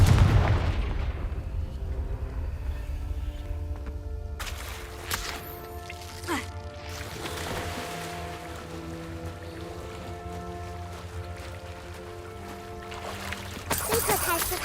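Fire-spell blasts cast in Hogwarts Legacy, a loud booming burst at the start followed by scattered crackling impacts and rumbling over a steady low game ambience, with another burst near the end.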